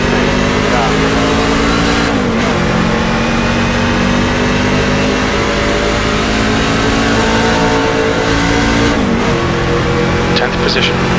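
Simulated NASCAR trucks race at Talladega in iRacing, with a dense pack of engines droning and shifting pitch steadily throughout, loud and continuous. A radio spotter talks over the engine roar.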